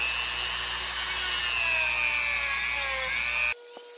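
A small cutting tool saws steadily through the plastic coupler part on an MTH Big Boy X4004 model locomotive, a close, continuous grinding whine that stops abruptly near the end.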